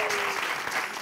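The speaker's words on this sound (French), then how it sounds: "Ça s'applaudit." Applause from an audience, a dense burst of many people clapping together, steady and moderately loud, with a faint voice at the very start.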